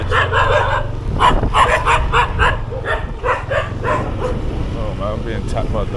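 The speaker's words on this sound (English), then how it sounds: "Being attacked by dogs." Several dogs at an abandoned temple in Thailand bark and yip in a rapid burst, loud and close, then fade to whimpers, with a car engine humming underneath and people talking.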